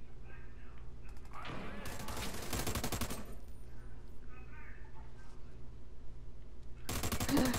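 Automatic rifle fire from America's Army: Proving Grounds, a long rapid burst of loud shots, then a quieter stretch with faint sounds, then another burst, as a voice talks in the background.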